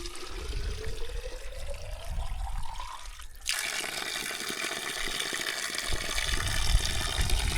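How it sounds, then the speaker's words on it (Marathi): Water from a Himalayan mountain spring runs steadily nearby on a trek, a continuous splashing flow with a rising pour-like tone early on before it opens into a broad, even rush. "माझ्याकडं एवढंच पाणी शिल्लक होतं आणि आपल्याला हा एक स्रोत मिळालेला आहे."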